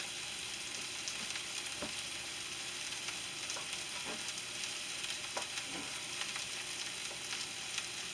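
Ground Angus sandwich beef sizzles steadily in a pan for a cheesesteak, with a continuous close frying hiss broken by several soft scraping stirs of a utensil.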